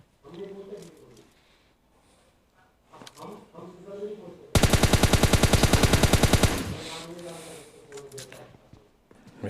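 A rapid burst of automatic gunfire in a battle royale video game, about two seconds of loud evenly spaced shots, with someone talking just before and after it.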